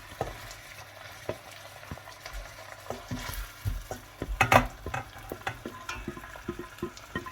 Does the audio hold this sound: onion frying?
yes